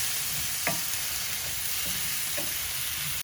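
Meatballs cooking in a pot as a spoon stirs them, a steady sizzle with a few soft scrapes and knocks of the utensil, close and moderately loud with no talking.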